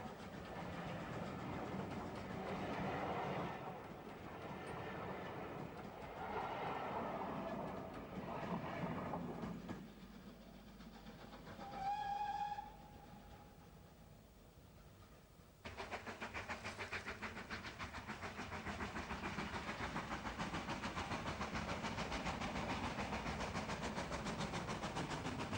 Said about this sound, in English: Crossing Maypool Viaduct, the train next encounters the 495-yard-long Greenway Tunnel, in which General Eisenhower's special train